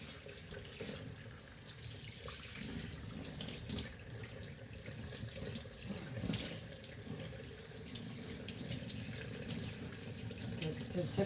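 Running water pours steadily from a tap to rinse shampoo and conditioner off a dog during a bath, a continuous close splashing hiss throughout.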